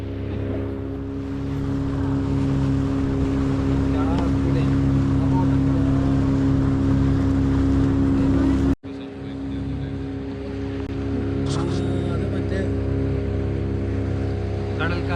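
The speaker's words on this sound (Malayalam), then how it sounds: "നമ്മള് സ്പീഡി ബോട്ടിലാണ്." Speedboat ride at Pykara boat house near Ooty: a loud, steady engine drone with rushing water, close and continuous, with a brief dropout partway through.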